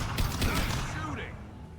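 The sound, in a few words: gunfire in a video game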